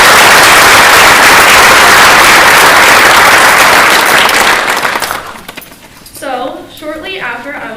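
Loud, sustained applause from a large crowd at a physician assistant white coat ceremony, fading after about five seconds as a voice begins speaking over the dying claps.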